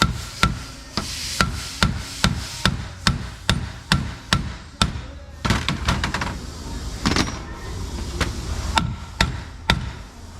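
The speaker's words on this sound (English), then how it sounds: "and a chisel, I'm going to just swage these threads a little bit" A hammer drives a chisel against the threads of a soft aluminum oil pan, giving a loud, steady series of sharp metallic blows at a regular pace, then a denser, more irregular run of strikes.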